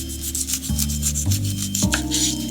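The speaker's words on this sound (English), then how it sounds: "Take a nice sharp knife and cut around the side just like this." A sharp knife trims the skin off a pineapple, a close, continuous rasping scrape with a few distinct strokes, no talking.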